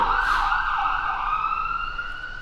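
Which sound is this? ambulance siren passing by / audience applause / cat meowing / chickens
ambulance siren passing by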